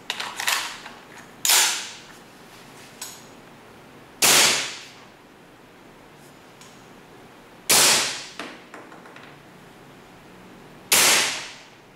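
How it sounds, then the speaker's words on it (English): A WE M4A1 open-bolt gas airsoft rifle fires .2 BBs on green gas: five sharp, loud bursts with quick decaying tails come at irregular intervals over quiet background, close up and with no talk. "Now, we test the M4A1 with .2 BB and green gas."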